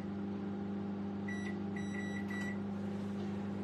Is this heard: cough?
no